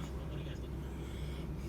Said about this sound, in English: they got that diesel engine running in the background.